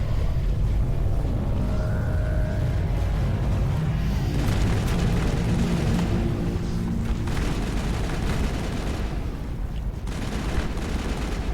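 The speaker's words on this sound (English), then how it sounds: "Didn't actually mean to throw that nade there." Grenade blast and combat noise from the video game Mass Effect, a loud, continuous roar with deep rumbling booms, bursts of gunfire and a swelling explosion midway, filling the whole stretch without speech.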